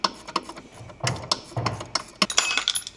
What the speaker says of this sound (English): We're going to undo this bolt here for the steering cable.